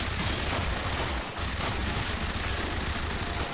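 Dense, continuous gunfire from Warframe rattles loudly and close with a rapid, unbroken barrage that cuts out for a split second midway before resuming.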